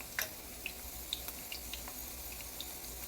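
Onion rings frying in oil for keto cooking, a soft steady bubbling hiss with scattered faint pops and crackles, quiet and close with no talk.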